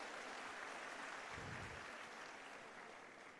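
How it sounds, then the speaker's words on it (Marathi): A crowd applauds at a Shiv Sena (UBT) political rally in Pachora, a dense, steady roar of many hands heard from a distance. It holds at a faint level throughout and eases off slightly near the end. "आपण सगळ्यांनी टाळ्यांचा कडकडाट करून त्यांचं स्वागत करावं"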